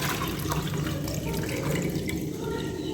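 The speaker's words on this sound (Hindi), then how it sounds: "हम इसके साथ इसको पानी को ड्रेन कर लेते हैं" Water drains from mozzarella cheese curds strained through cloth, a steady, continuous splashing trickle like a running tap. It stays fairly loud and even for the whole stretch.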